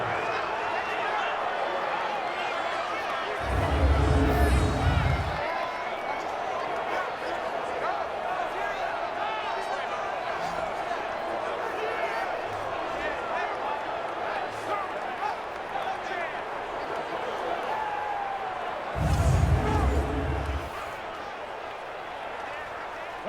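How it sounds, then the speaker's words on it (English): Stadium crowd roar in the Madden 20 football game during a Chiefs at Patriots matchup, a steady dense cheer with two louder low-end swells, heard under a commentator's continuous play-by-play talk. "The crowd getting into it as we come up on a big 3rd down."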